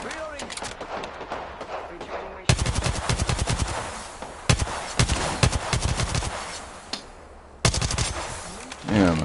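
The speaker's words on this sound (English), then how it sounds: "Damn, I keep shooting over people." Rapid automatic gunfire in the Apex Legends battle royale game, loud and close, coming in several dense bursts of quick repeated shots with brief pauses between them.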